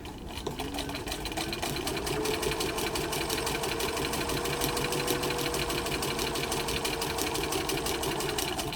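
A sewing machine stitches a fabric face mask, its needle running in a fast, continuous mechanical whir that stays steady and close for the whole stretch, with no voices over it.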